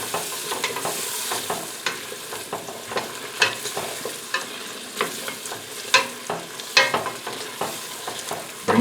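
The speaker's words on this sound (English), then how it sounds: "The onions have been in the butter for several minutes now, and they're even starting to take on a little color" Onions sautéing in butter for seafood chowder, a steady close sizzle broken by frequent scraping stirs and soft clicks of a utensil against the pot, with no voices.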